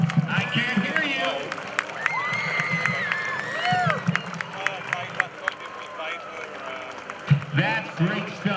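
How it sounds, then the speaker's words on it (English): Big outdoor crowd at the Pensacola Blue Angels homecoming airshow applauding and cheering after an F/A-18F Super Hornet demonstration, a steady wash of clapping and shouts with a loud voice talking over it throughout. "Would you give the Rhino and the crew a huge Pensacola round of applause?"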